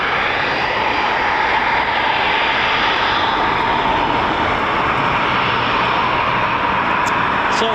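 A Eurofighter Typhoon FGR4 jet departs RAF Coningsby, its engine roar loud and steady and dominating the whole stretch with a broad, continuous rush.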